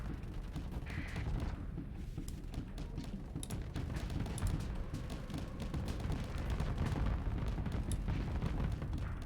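Weapons fire and explosions from a Starsector space battle rumble continuously, a dense low thudding roar of blasts and shots layered together at a fairly quiet, steady level.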